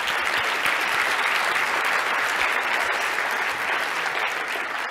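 A large audience applauds steadily throughout, a dense and continuous wash of clapping without any voices.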